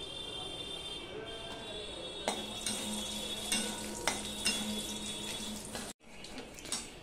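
Whole spices sizzle in hot oil for tempering: dried red chilli, bay leaves, cardamom and two pieces of cinnamon. The crackle is loud and busy, with sharp spatters and utensil taps, and it breaks off in a brief gap near the end.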